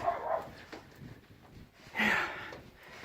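A dog barks a couple of times nearby, short separate woofs with a quiet pause between them.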